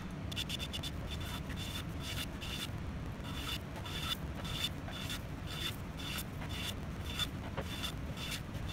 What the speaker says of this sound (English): I'm just flushing it up with the plane